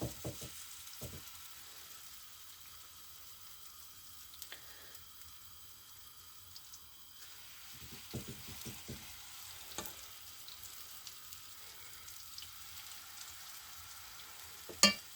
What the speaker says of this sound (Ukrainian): Насипаємо такі ось оладки.